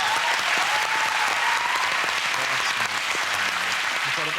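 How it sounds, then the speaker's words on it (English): A studio audience at a televised comedy quiz show breaks into loud, dense applause that holds at a steady level throughout, a thick continuous wash of clapping with no talk heard over it. "And round of applause."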